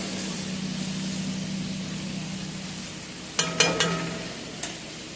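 Chicken juices are poured into a pan of sauteed green peppers over high heat, giving a steady soft sizzle with a low hum beneath and a few sharp clinks of a utensil near the end.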